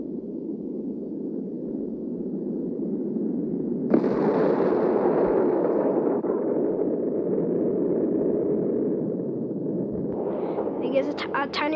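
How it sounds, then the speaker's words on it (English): A sudden loud blast bursts in over a dense rumbling background in the game Solar Smash, its crackling roar sustained for several seconds before tapering into scattered sharp pops. "Tiny rock can make a huge explosion, can it?"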